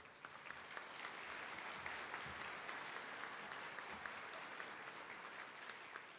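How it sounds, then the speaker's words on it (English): Audience applause fills a hall during a mayor's State of the City address, a steady, dense wash of clapping that sounds somewhat distant and holds evenly for several seconds. "Please give them a round of applause."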